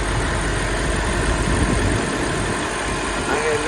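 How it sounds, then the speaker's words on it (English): A 2019 BMW M5 idles steadily up close at an auto auction lot, a constant deep engine rumble with no revving. "This one is a 2019 BMW M5. Sounds beautiful."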